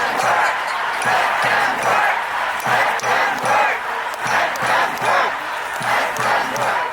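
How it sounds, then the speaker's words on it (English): A protest crowd of several hundred people on Capitol Hill, heard as a rhythmic chant with repeated shouted bursts about once a second, loud and continuous, with crowd noise between the chants. "So that's the crowd. It's a pretty decent sized crowd."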